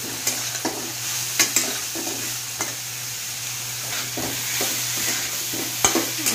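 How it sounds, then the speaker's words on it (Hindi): Masala for veg biryani sizzles and fries in a pressure cooker while a spoon stirs it, scraping and clinking against the metal in irregular strokes over a steady close frying hiss. "और इसको अच्छी तरह से हम चला लेंगे,"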